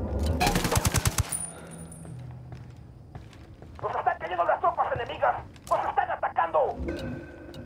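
Rapid automatic gunfire in the shooter game Ghost Recon Wildlands, a loud burst of closely spaced shots at the start, followed by quieter game sounds while someone talks.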